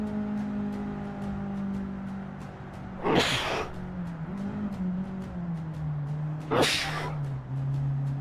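Two sharp sneezes about three seconds apart, loud and close, over a steady background hum with some low talk.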